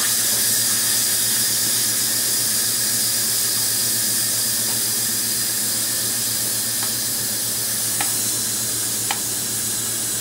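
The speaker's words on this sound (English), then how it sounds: "this is how much steam it's putting off" Steam hisses steadily and loudly from an Instant Pot venting pressure after cooking chicken, a continuous close rush with a low hum underneath and a few faint clicks.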